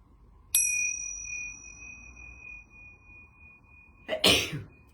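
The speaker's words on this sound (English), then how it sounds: "I'm going to ring the yoga bells one time here." A single bright bell strike rings out and sustains in a long, pure fading tone, followed by a loud sneeze.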